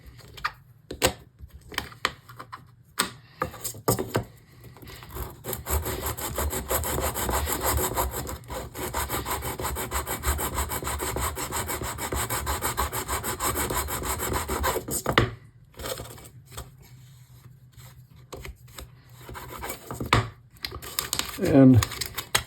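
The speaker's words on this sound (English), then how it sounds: "Continue sanding the edges." Close, steady sandpaper rasping on wood block edges, sporadic strokes at first, then continuous scrubbing for about ten seconds, followed by scattered strokes.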